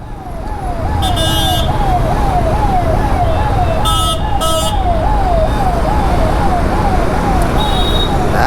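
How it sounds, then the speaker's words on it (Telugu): An ambulance siren wails in a steady rising-and-falling cycle amid loud road traffic, with engine rumble underneath and a few short horn beeps cutting through. "యాక్చువల్గా అంబులెన్స్ వెళ్తుంది,"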